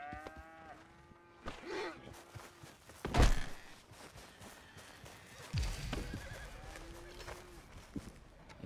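A horse in the Red Dead Redemption game whinnies and snorts, with a few heavy hoof thuds and clopping in between, fairly close against a quiet outdoor background.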